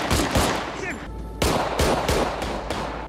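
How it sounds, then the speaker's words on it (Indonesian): Rapid bursts of gunfire in a film scene crack loudly in quick succession, a short pause with faint whistling, then more heavy shots ring out close by. "sosok misterius yang melepaskan tembakan juga ke arah si Alex"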